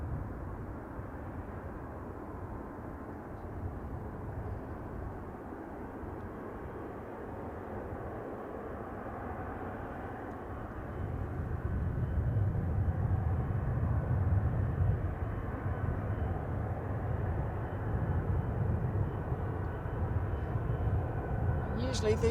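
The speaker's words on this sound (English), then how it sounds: "You can hear it. It's a noisy aircraft, which is cool." A noisy Boeing 777 rumbles at Manchester Airport, a steady low roar from a distance that swells louder about halfway through and holds.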